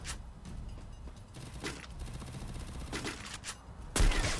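Sniper and other gunfire in the mobile battle royale game Free Fire, a dense run of close shots and crackling bursts with a sharp loud blast near the end, no talk.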